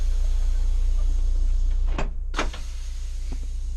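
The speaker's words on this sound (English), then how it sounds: "Close the door." A Prevost coach door swings shut in a couple of quick, solid thuds about halfway through, set against a steady low engine or generator hum with no talking.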